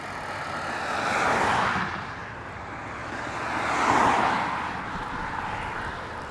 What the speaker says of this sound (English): I'll have to wait for these two cars.